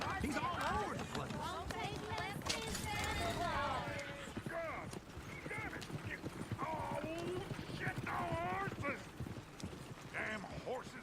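In the video game Red Dead Redemption 2, several horses gallop with rapid clip-clopping hooves and occasional whinnies, while people talk loudly over the busy, continuous commotion.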